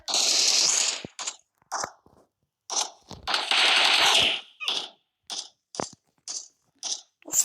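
Gunfire from the PUBG Mobile video game comes in loud, irregular bursts: sustained automatic fire alternates with short single shots and brief pauses.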